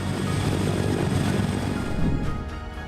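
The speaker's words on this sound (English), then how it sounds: "Sikorsky delivered the first CH-53 King Stallion helicopter to the US Marine Corps." Sikorsky CH-53K King Stallion heavy-lift helicopter, delivered to the US Marine Corps, roaring with a loud, steady broadband rotor and engine drone that holds throughout and eases slightly near the end, with no voices.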